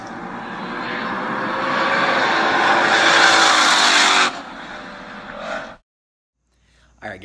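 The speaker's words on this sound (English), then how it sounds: "this is the first video of the GT500 under full acceleration, on track" A 2020 Ford Mustang GT500 with 800 horsepower accelerates at full throttle on a track, its roar rising loud and close for several seconds before cutting off abruptly, with a brief second burst and then silence.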